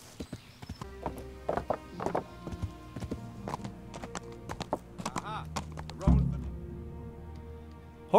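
Hooves clip-clop steadily from a horse ridden along a trail in the medieval video game Kingdom Come: Deliverance, close and rhythmic, with a spoken voice over it and a louder thump near the end.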